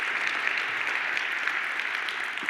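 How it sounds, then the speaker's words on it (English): Steady applause from an audience at a tech talk on React forms, a dense even wash of many hands clapping at moderate distance, sustained without a break and with no voices over it. "we can clap for that"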